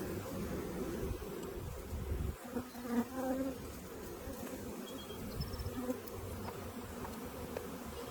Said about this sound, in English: there's so many bees on there